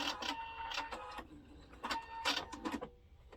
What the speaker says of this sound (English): this machine does the back stitch